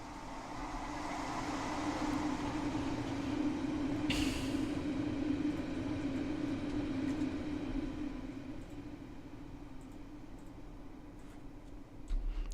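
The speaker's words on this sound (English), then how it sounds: "first we have to wait for that ginormous train to pass by" A long, large train passes nearby with a steady low rumble and rhythmic rail clatter, a brief hiss partway through, gradually easing toward the end.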